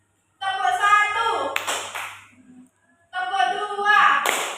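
An eighth-grade class claps in unison once after a teacher calls out an instruction, and the pattern repeats: spoken command, then a single sharp group clap.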